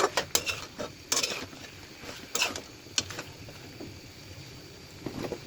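Beef and potato curry being stirred in a pot, with a spoon scraping and knocking against the pot in short, irregular clinks and rubs, fairly quiet and close.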